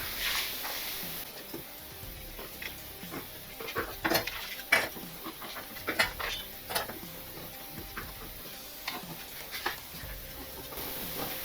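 Scissors cut blouse fabric in a quiet room, with scattered light metallic snips and clicks at an irregular pace and faint background hiss.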